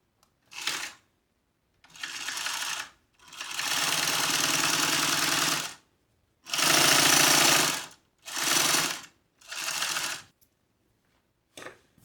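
A sewing machine stitching a zipper piece onto a fabric fanny pack, running in several short and long bursts of rapid, even mechanical whirring separated by pauses.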